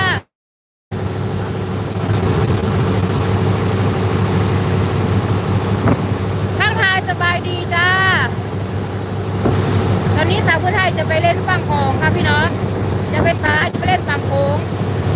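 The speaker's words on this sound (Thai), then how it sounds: "ตอนนี้เรืออ้อมขึ้นมา อ่าอ้อมอ้อมหาดนะคะพี่น้อง" A boat crosses the Mekong River toward the Laos shore, its engine droning steadily beneath heavy wind buffeting and water wash, while a voice talks intermittently over the constant noise.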